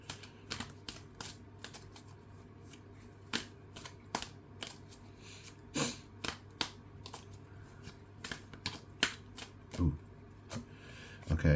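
Tarot cards are shuffled close up with quick, irregular riffling and tapping of the cards against one another, and a voice makes a brief exclamation partway through.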